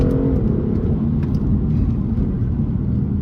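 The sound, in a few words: BMW M2 CS car driving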